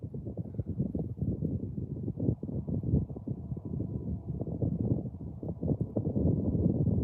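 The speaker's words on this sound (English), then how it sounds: "it's windy out here" Wind blows outdoors against the microphone in continuous low, gusty rumbling buffets, loud and muffled with no clear voices.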